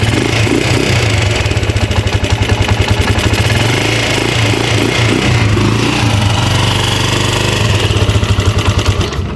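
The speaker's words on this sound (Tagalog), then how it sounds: "Tapos magwa-wild, tapos mamamatay. Yan ang problema ng motor nila." A motorcycle engine runs loud and close throughout, idling with a steady clattering pulse and rising into rough revs before dropping off as if about to die, with no talking over it.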